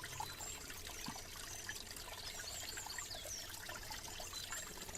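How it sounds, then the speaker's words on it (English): Spring water trickles steadily from under a rock in a soft, continuous stream, close by, with faint birdsong chirping in the background. "Right underneath the rock, look. You can hear it trickling away."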